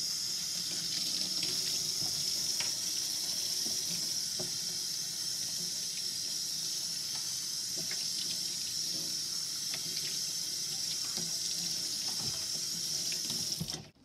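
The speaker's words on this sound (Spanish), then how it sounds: "enjuague con agua tibia." Warm tap water runs steadily into a sink as a half-face respirator is rinsed, a continuous close hiss that lasts nearly the whole time before cutting off at the end.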